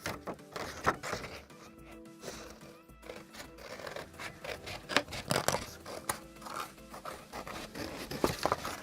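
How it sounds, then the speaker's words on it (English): Scissors cut through stiff cardstock in a puppet-building shop: a steady run of close, crisp snips and scraping blade sounds with no talking. "So I'm just cutting this out with the garbage scissors because it's cardstock."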